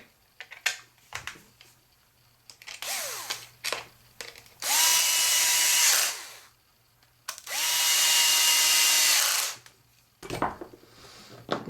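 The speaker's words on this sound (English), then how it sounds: "So I got that little bitty drill." A small power drill works on an Andis AG two-speed clipper during a teardown, firing in short bursts, then two long steady high whines of several seconds each, with clicks and handling noises between them.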